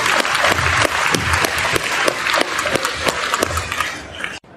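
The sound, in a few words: audience applause for panelists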